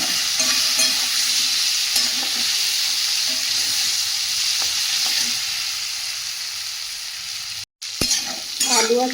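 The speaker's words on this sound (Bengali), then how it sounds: "ভেজে রাখা চিংড়ি মাছ আর আলুটা দিয়ে দেব দিয়ে ভালো করে কষিয়ে নেব" Fried prawns and potato tossed in a hot pan, a continuous close sizzle with rhythmic scraping stirs, a brief cut near the end, then sharper sizzling and scraping.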